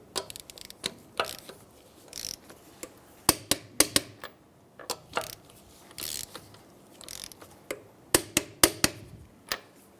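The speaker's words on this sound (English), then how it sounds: "we're going to go ahead and torque down our lug nuts" A torque wrench ratchets as car lug nuts on a 2007-2015 Mazda CX-9 are tightened in a crisscross pattern to 85 foot-pounds, making clusters of sharp, close clicks in uneven bursts.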